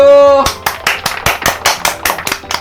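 A small group of students in a classroom claps in quick, uneven bursts right after a short sung or sustained voiced tone at the start.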